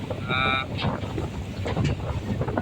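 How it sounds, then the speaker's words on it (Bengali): A boat moves across open sea among small islands, its engine rumbling under steady wind buffeting the microphone, while a voice speaks briefly and another boat passes close by. "এই মুহূর্তে আমাদের আরেকটি বোট যাচ্ছে খুবই পাশেই।"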